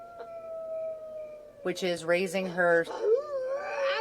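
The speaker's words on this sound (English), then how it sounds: "so I'm going to have her howl a lot" A werewolf Sim in The Sims 4 lets out a long wavering howl with yips and whimpers, and someone speaks over the latter part.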